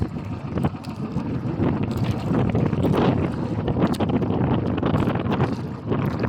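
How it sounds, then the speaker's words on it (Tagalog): Strong wind buffets the microphone with a constant roaring rumble and gusty bursts, with no talking heard. "Malakas ang hangin guys."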